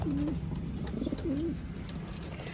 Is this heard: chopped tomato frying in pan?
no